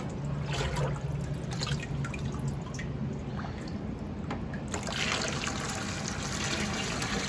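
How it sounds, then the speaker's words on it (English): Tap water runs into a 5-gallon bucket in a steady, close splashing gush that holds for several seconds, briefly thinning to a lighter trickle midway before filling out again, with no talking. "I'll just fill up this bucket halfway"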